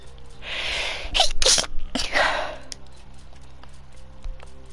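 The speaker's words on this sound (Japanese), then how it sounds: "ごめんね、くしゃみ。" A single sharp sneeze bursts out close to the microphone, with a quick intake of breath before it and a brief trailing exhale, over a low steady hum of background game audio.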